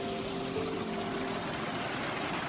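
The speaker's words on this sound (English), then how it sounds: "I think I hear the river coming back" A river in the Kolsai Lakes area rushes over rocks with a steady, broadband wash, heard from nearby on a mountain hike, with no voices.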